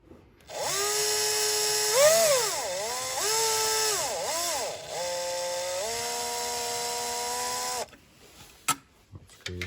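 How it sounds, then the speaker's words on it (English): A cordless drill backs out the screws of an old rotary dimmer switch, whining loudly up close with a rising and falling motor pitch over several seconds, then stops and leaves a few small clicks. "Sometimes people like to use drills because it makes it go quicker."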